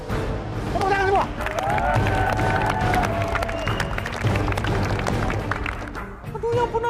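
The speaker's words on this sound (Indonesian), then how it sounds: "Tepuk tangan semua." A group claps on cue during an Indonesian drama scene, busy clapping mixed with children's voices and talk over it, loud and close throughout.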